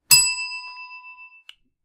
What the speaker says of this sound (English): Sorry, that was my new bell here.